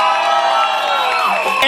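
A street crowd at a New Year's Eve effigy contest cheers, whoops and shouts for a neighbourhood, with loud overlapping voices and sustained yelling close by.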